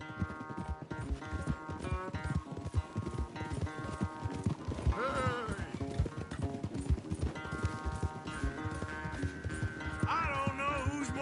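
Horses galloping in a race, a rapid, continuous drumming of hooves up close, with music and other sounds laid over the pounding.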